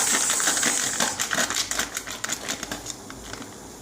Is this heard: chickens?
no